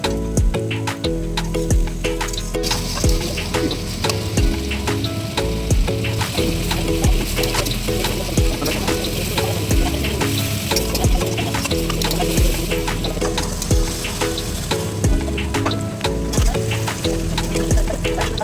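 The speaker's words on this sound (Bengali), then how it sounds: "তারপর রাখা টমেটোগুলি এতে দিয়ে দিব" Tomatoes sizzling and crackling in a hot pan for Bengali ghugni, a continuous frying sound close by, with a steady tonal hum in the background.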